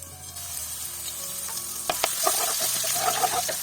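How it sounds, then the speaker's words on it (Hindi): Garlic fries in hot oil for a tadka tempering for kari pakora, giving a bright, continuous sizzle that swells into denser crackling and spattering partway through. "तड़के के लिए ऑयल डाला है और उसमें क्या डालना है? लहसुन।"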